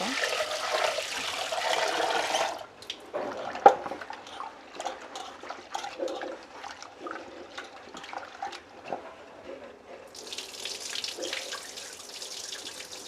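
Water runs from a tap into a kitchen sink as something is washed, a steady hiss at first, then splashing and handling noises, then the flow again near the end, with no voices.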